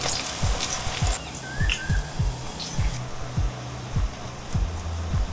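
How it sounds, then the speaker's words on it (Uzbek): Battered eggplant slices fry over medium heat with a steady, moderate sizzle, broken by a regular series of low soft thumps. "qizib turgan o'rta olovda ikki tarafini qizartirib qovurib olamiz"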